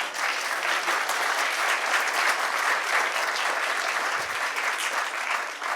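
A lecture audience at a memorial address applauding Hari Menon, dense sustained clapping from many hands at steady loudness throughout.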